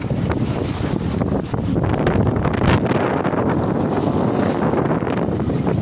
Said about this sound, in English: About 12, 13 knots of wind.